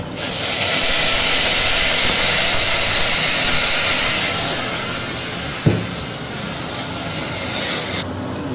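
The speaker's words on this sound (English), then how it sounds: "The white wine is added." White wine poured into a pan of hot wild rice risotto sets off a loud, steady steam-like hiss that fades after about four seconds, with a brief clink near the end.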